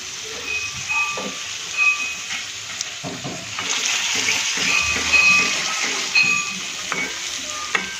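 Fresh turmeric stirred in oil over low heat, a soft steady sizzle with scraping stir strokes running throughout, close and moderate, no talking.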